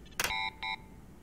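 Electronic beeps in the video game Black Mesa: a short burst of noise followed by two clean, steady tones, each lasting a fraction of a second, with a brief gap between them in a quiet setting.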